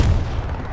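A single deep artillery boom from the Hell Let Loose World War II shooter, fought by night at Foy, lands loud and close, then rolls off in a low, fading rumble.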